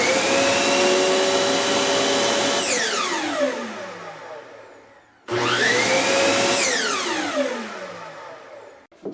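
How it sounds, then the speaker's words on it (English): A vacuum cleaner roars loudly up close, winds down with a falling whine, then starts again and runs steadily before cutting off. "I don't know if you can hear that the vacuum's coming on."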